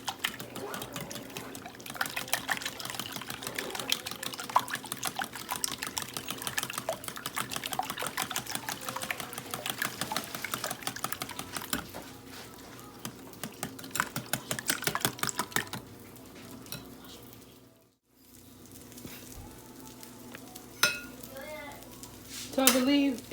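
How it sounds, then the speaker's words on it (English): Eggs and almond milk are whisked together in a bowl during a quick school-morning breakfast, giving a steady stream of rapid clinking and tapping with a short pause near the end, while food sizzles faintly on a griddle. "I am going to just take that and whisk those eggs all together"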